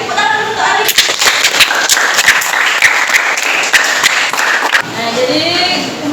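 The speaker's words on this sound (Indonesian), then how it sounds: "tepuk tangan untuk Alin" A classroom of students claps for a classmate, a dense burst of sharp, close hand claps running steadily for several seconds before tapering off, with faint voices mixed in.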